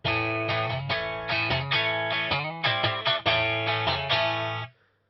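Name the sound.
Marshall amp with Strat guitar, mid boost off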